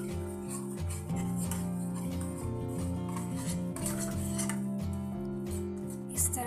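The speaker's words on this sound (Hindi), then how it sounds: "अब हम इसमें ये सूजी ऐड करेंगे और इसे अच्छी तरह से मिक्स कर देना है।" Semolina mixture being stirred in a pan with a spoon, steady scraping and clinking of utensil against metal running continuously, fairly close, with no voices.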